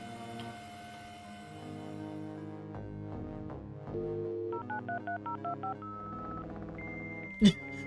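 Dial-up modem connection sequence in a retro-styled computer game: a dial tone, a run of rapid touch-tone dialing beeps, then handshake tones and a sharp burst of noise, fairly quiet.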